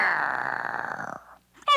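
A dog growls low and steadily for about a second as a storybook sound effect, the rumble fading out before a brief higher sound at the end.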